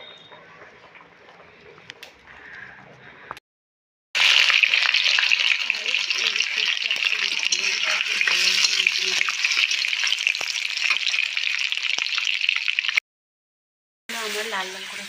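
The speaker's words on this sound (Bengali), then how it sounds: "তো এখানে আমি মাংস রান্না করবো" Meat fries in a pan with onion, green chili and ginger-garlic paste, a loud continuous sizzle that swells after a quiet start and runs for about nine seconds before cutting off, then briefly resumes.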